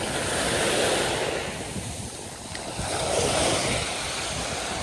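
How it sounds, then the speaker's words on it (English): Ocean waves at a quiet beach roll in with a continuous broad surf roar that swells and eases, mixed with steady wind buffeting the microphone and no talk. "Look at all that ocean water, guys."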